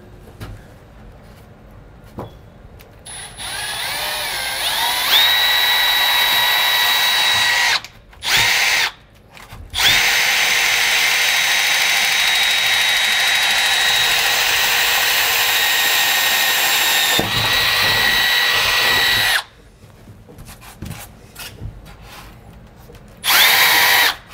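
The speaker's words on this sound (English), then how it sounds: "I'm gonna shoot our drill bit up in each 4 of these corners" A power drill drills holes through a trailer roof for a roof vent in several long, loud bursts with short pauses between, a steady high whine, with quieter handling noise in the gaps.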